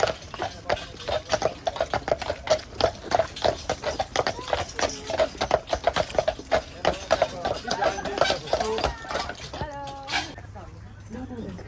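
Hooves of a carriage horse clip-clop steadily in Stanley Park, Vancouver, a regular rhythm running under nearby talk and park chatter throughout.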